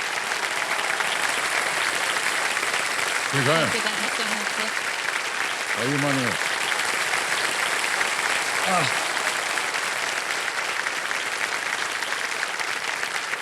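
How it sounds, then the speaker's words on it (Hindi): Studio audience applause on a television quiz show set, steady broadband clapping filling the whole clip at a loud, constant level, with a voice speaking briefly over it. "तो ताली बजती रहे इनके लिए"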